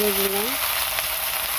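Pumpkin with oil, salt and turmeric fries in a hot pan while being stirred, a steady broadband sizzle that stays loud throughout, with a brief tonal hum at the start.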